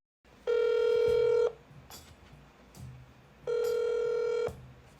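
A telephone ringback tone sounds twice on an outgoing call, each steady electronic ring lasting about a second, with faint line noise and clicks in the gaps between them.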